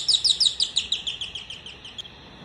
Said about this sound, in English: This is canary.